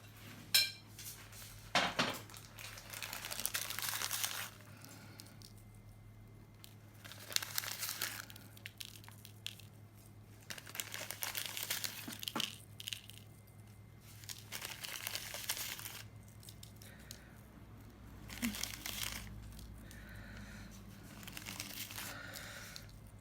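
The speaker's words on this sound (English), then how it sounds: "I'm literally just going to sprinkle it around the edge of the sky." Medium glass frit sprinkled around the edge of a fused glass bowl, giving repeated bursts of light gritty crinkling and tinkling that come and go over about twenty seconds, close by and fairly quiet, with no talking.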